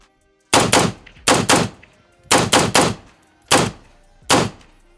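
Rifle gunfire at an outdoor shooting range, comparing a PSA rifle and a Radical Firearms rifle: loud close shots in pairs and singles, roughly nine reports spaced across the stretch, with short decays between.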